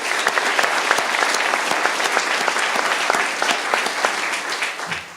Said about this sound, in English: So one more round of applause for our Board of Trustees